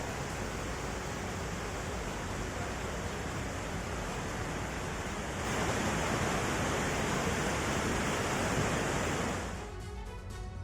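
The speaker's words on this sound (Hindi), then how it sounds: "पानी का तेज बहाव दीवार तोड़ते हुए आगे बढ़ गया" Floodwater from a burst dam in Karelia, Russia, rushes as a loud, steady broadband roar, swelling in the middle before easing near the end, with no voices.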